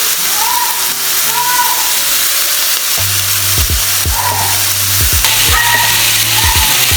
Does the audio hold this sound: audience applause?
no